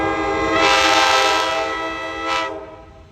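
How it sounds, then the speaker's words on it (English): A B&O diesel locomotive hauling streamlined passenger coaches passes nearby, its loud, sustained multi-tone horn blaring over the rolling rumble of the train, then a second shorter horn blast before it fades. "here come those streamlined passenger coaches with the"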